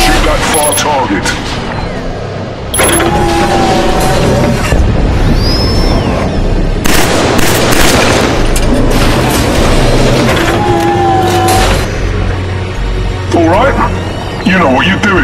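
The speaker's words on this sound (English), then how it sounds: "Try shooting when you peek from cover." Gunfire in the Killzone 3 video game as the player shoots from cover: a loud, dense stretch of shots and blasts over a constant mechanical rumble, with voices talking at times.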